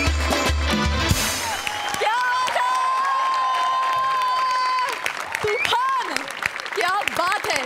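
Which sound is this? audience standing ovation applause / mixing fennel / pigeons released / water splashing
audience standing ovation applause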